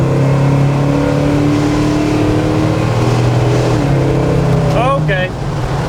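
A 1970 Dodge Charger 500 V8 pulls hard in second gear, a loud steady engine roar held at close range, pitch creeping up before easing off, with a short voice-like exclamation near the end.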